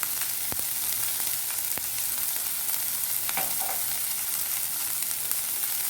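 Spices frying in hot oil with turmeric powder for a masala dosa filling: a steady, close sizzle with a few sharp clicks and pops, and no talking.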